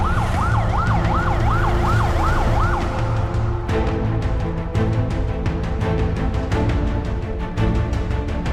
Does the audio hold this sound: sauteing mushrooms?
no